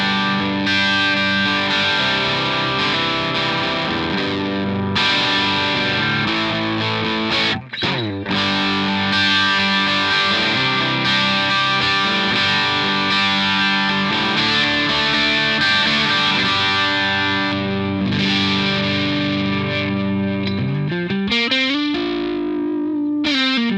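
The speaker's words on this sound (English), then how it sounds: "this is my bass sound." An electric bass runs through a live rig's effects chain with a slightly gainy, distorted edge. It plays loud and continuous with sustained notes and one brief dropout near the middle, then ends in a sliding pitch bend.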